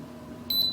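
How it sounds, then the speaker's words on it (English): A brief, thin electronic beep from a GD93 GPS drone remote control during gyro calibration sounds near the end over a low, steady background hum. "Beeps again."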